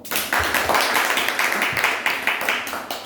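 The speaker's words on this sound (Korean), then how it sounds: "내말 어떻게 긍정하면 박수 한번 쳐봐." An audience at a stock-picking lecture breaks into brisk, dense clapping, many hands at once, loud and close for about three seconds with no speech over it.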